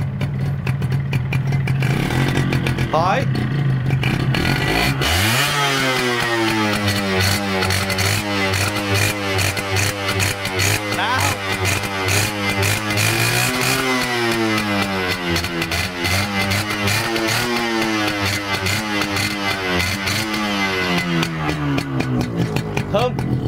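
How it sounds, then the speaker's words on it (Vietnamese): A kick-started Yamaha 125ZR motorcycle with no electric starter fires up after a few seconds, then revs up and down repeatedly, loud and close, with a person talking over it. "mình sẽ nổ máy để cho các bạn cùng lắng nghe cái âm thanh"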